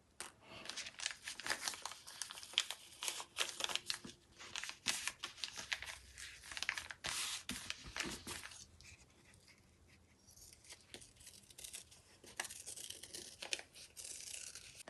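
Foam pieces for espadrilles being cut out, with dense, crinkly rustling and tearing-like scraping in close, busy bursts that ease briefly midway and then resume.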